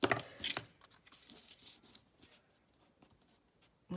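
Paper being cut and torn during a New Year's Eve craft session, with a loud burst of snipping and tearing at the start, then quieter, sparse rustling and small cuts close by, with no talking.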